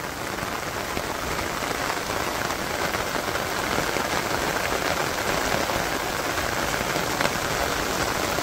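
Steady rain falls in a village, a dense, even hiss of drops on surfaces that continues unbroken and fairly loud throughout, with no voices.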